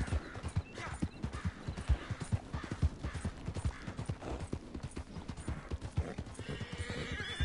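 Quick, steady hoofbeats clop along continuously while a horse whinnies, with a crisp, game-like sound from Red Dead Redemption 2 Online.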